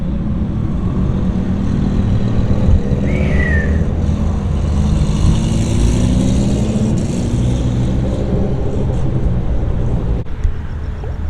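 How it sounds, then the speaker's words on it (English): A car drives past at a nighttime car meet in a parking lot, its engine drone loud and steady alongside the constant roar of surrounding traffic and crowd noise. "We got a car."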